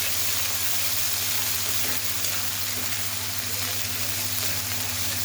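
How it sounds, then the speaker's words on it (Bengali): Ground ginger, cumin and chili spice paste sizzles steadily in a hot pan, a continuous close crackling hiss with a low electrical hum underneath and no talking. "এই মশলাগুলো এখন আমি সুন্দর করে হচ্ছে ভেজে নিব"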